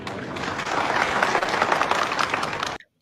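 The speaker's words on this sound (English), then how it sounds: "I hope you can see as they're clapping for him." Crowd at an outdoor Biafran gathering clapping for Senator Aliyu of Sokoto, a dense, sustained burst of applause at even volume that cuts off abruptly near the end.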